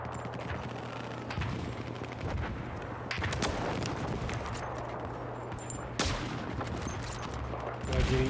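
Bolt-action rifle gunfire in Battlefield 4 during a large multiplayer match on snow, with sharp shots cracking at intervals amid continuous distant battle rumble and other weapons firing.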